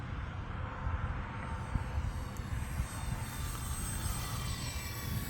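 E-flite Valiant electric RC airplane on a 4S battery making a half-throttle flyby, its motor a steady, fairly loud broadband whine that holds evenly throughout with no talk.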